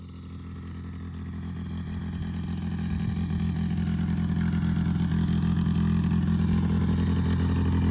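YFZ50 kids' ride-on power wheel bike running outdoors in a field, a steady low motor drone that gradually grows louder as it continues, with no talking.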